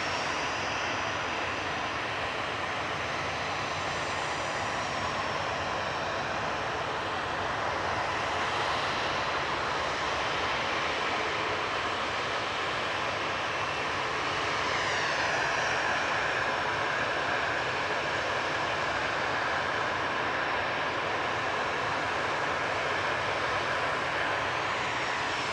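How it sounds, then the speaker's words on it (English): A TUI Boeing 737-800 airliner departing Manchester Airport gives off a sustained distant jet roar that swells midway through, with a rising whine as the engines spool up for takeoff and a constant broad rumble underneath. "Semi-naked Tui lined up and ready to go next. This is Tucker, 737-800 with flight 2632 to Olbia."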